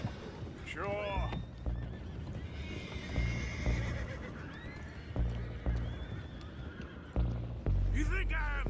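Horses in Red Dead Redemption 2 whinny and neigh repeatedly amid clip-clopping hooves and outdoor game ambience, with a loud burst near the end and voices speaking at times.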